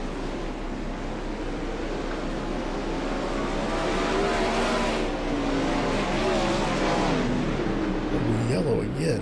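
Open-wheel non-wing race cars circle the dirt oval at Volusia Speedway Park in iRacing, a dense engine drone rising and falling in pitch as cars pass. A commentator talks over it throughout.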